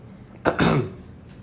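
A single light cough, short and close, with a brief throaty burst in otherwise quiet surroundings.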